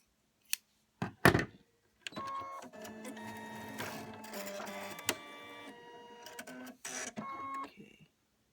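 An Elegante embroidery machine runs steadily with a mechanical whir and rapid repeating stitch ticks, preceded by a few sharp clicks and thumps as it starts up, close and fairly quiet with no talking.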